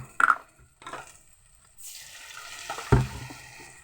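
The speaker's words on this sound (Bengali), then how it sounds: "এবার মশলাটা যাতে পুড়ে না যায় সেই জন্য আমি একটু জল দিয়ে দেবো।" Water poured into a pan of sizzling spice paste for khichuri, a few faint taps and clinks, then a sudden hissing burst of steam and sizzle that settles into a steady crackle, close by and alone.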